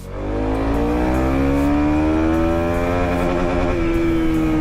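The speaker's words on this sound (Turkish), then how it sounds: "Bir de çok tatlı bir kesicisi var. Onu da dinleteyim size." A Kawasaki Z250SL motorcycle engine revs hard and holds near the rev limiter, a loud, steady, close single-cylinder buzz with rising harmonics and no talk.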